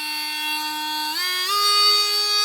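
Depstech cordless rotary tool bogging down under pressure against wood, a clean high motor whine whose pitch drops in two steps as the load increases, with no talking.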